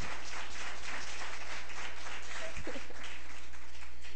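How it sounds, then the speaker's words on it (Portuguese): Steady applause from a large church congregation, a dense wash of clapping that holds evenly throughout with no voices breaking through. "Vamos aplaudir Jesus, né?"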